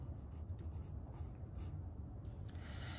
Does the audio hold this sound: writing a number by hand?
yes